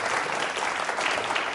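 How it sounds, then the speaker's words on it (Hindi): Dense, steady applause from a quiz show studio audience, loud and sustained throughout with no voices breaking through. "तालियां जोरों से बजाइए आपके लिए"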